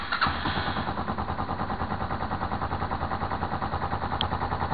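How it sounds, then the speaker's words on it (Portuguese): A Yamaha XT225 motorcycle engine catches and settles into a steady, throbbing idle, close by, with a regular pulsing rhythm throughout. "Vou ligar a moto."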